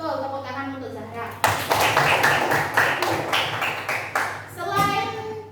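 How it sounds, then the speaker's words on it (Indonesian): Children in a classroom break into brisk applause for a pupil, a dense burst of clapping that follows a teacher's voice and fades as she begins speaking again. "tepuk tangan untuk Zahra."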